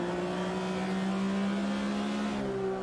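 A classic race car in a racing video game lifts off the throttle at Monaco, heading into the tunnel, its steady engine drone holding with faint harmonic whine and a slight change in tone near the end.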